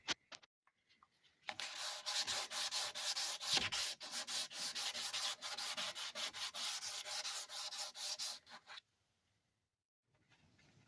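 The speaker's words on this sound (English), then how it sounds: "we're going to wet sand this with 320" Paint in the door jamb of a 1970 Ford Torino gets wet sanded with 320-grit paper, making close, steady rhythmic rubbing strokes for about seven seconds. A few faint taps come before it and a short quiet stretch follows.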